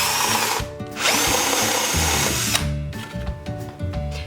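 Power drill boring a hole for a cake dowel, a loud close motor whine that runs steadily for about four seconds with brief dips in pitch as the bit bites, with no voices.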